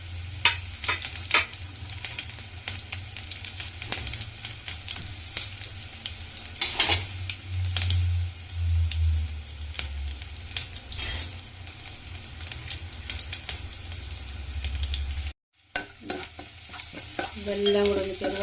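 Cumin, garlic, ginger and crushed chili frying in oil for Kerala tomato rasam, giving a steady low sizzle broken by stirring scrapes and occasional utensil clinks, close up and with no talking.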